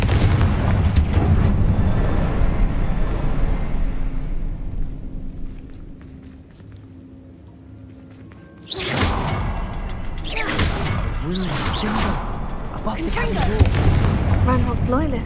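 Explosions from the Confringo fire spell in Hogwarts Legacy, booming blasts with whooshes and crackling, loud at the start, a quieter lull in the middle, then further bursts with a voice speaking over them.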